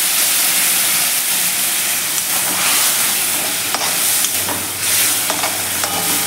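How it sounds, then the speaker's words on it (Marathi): Spices sauté in a pan with a splash of water, giving a steady loud sizzle and hiss for lentil cooking, broken by a few soft stirring scrapes and no voices. "हे मसाले छान असे परतून घेऊयात"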